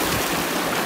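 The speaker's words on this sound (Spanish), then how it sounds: "Este es el arroyo que baja de la Laguna Lola." Mountain stream running down from Laguna Lola on a Tierra del Fuego trek, a steady close rush of flowing water with a dense, even hiss and no voices.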